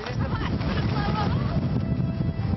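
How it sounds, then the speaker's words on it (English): Strong wind roars and buffets the microphone continuously, a loud rushing gusty noise with indistinct voices underneath. "It's windy!"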